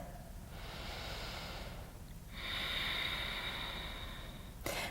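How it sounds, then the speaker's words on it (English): Deep, slow breathing during a guided yoga flow: a long airy breath in, a short pause, then a fuller and louder breath out, close and steady, with no talking over it. "Take another deep breath."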